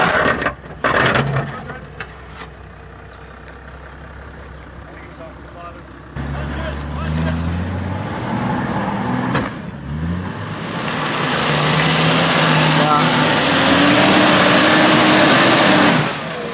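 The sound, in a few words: Nissan NP300 driving off-road over rough terrain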